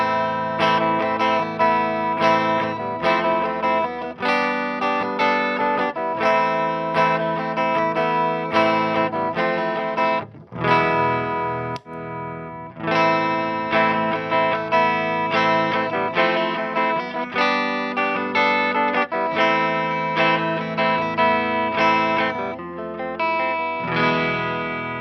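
Loud, continuous distorted electric guitar through tube amplifiers, a Peavey 6505+ and a Mesa Boogie Badlander, playing chords and riffs with a thick amp tone and a short break midway.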